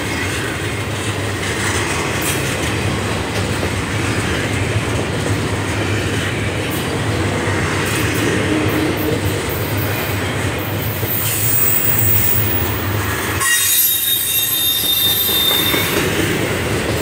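Eastbound freight trains pass close by on a Saturday morning, a loud continuous roar of rolling wagons with rhythmic wheel clatter and occasional squeal, steady throughout with no talk.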